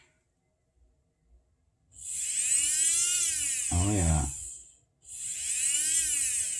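A restored 1988 Kato GP38 Burlington Northern model locomotive's motor whirs in a steady high-pitched buzz close by, cutting out briefly before starting again, with a short spoken remark midway.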